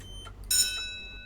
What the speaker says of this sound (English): The alarm does alarm things.